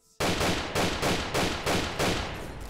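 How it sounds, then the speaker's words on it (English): Gunfire in Fallout 3, a loud sequence of about five evenly spaced heavy shots, each with a ringing tail, close and dense, with no speech. "No, stop shooting the innocent person."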